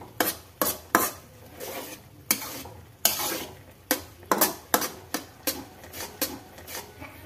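Masala oats are stirred in a pan, giving a quick, uneven series of scraping and clinking strokes against the metal over a faint sizzle. The sound is close and busy, with no voices.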